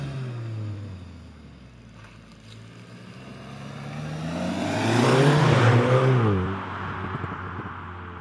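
A 2019 Volkswagen Golf GTI Mk7.5 driving hard, its engine note climbing through a rev sweep and swelling loudly mid-way before easing off under steady road and wind noise.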